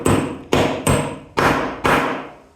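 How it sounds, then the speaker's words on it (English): Five loud metallic hammer blows driving a punch into a go-kart brake part, at a steady pace, each ringing briefly before the next strike, close up with no talking. "So let's take a hammer."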